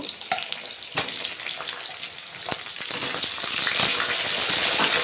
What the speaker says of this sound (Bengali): আলুগুলো তেলের মধ্যে একটু নাড়াচাড়া করে ভেজে নেব